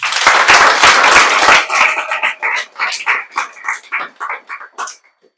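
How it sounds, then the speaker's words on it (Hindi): An audience applauds together, a loud dense burst that thins after a second or so into scattered, uneven claps before fading out. "इसके लिए ताली बजा दीजिए।"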